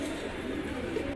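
Local pigeons cooing softly nearby, a short low murmuring call over a faint steady background.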